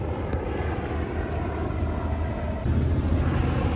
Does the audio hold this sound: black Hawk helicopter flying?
yes